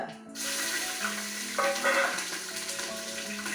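Dried chillies, ginger-garlic paste and green chillies fry in hot oil, a continuous close sizzle that swells briefly in the middle, with faint clinks and no talk.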